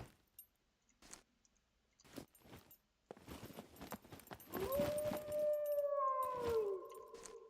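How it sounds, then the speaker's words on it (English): Dogs in the SCUM survival video game let out a rising, sustained howl that swells and holds for several seconds, preceded by scattered short clicks and thumps from gameplay. "There's gotta be a way to like mute the dogs at some point."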